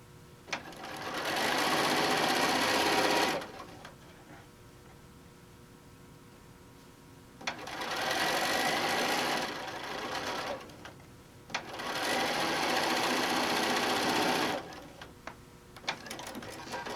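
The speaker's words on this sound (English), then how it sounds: "so we're sewing along" A sewing machine stitches a quilt top made from a poppy panel in three long, steady whirring bursts separated by short pauses. Faint clicks sit in the quiet gaps.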